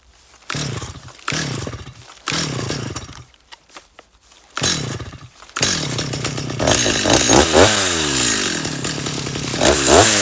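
Chainsaw cutting firewood from storm-felled trees after a hurricane, the engine revving in bursts with pauses between, then settling into a loud continuous bogging cut through the wood, close by.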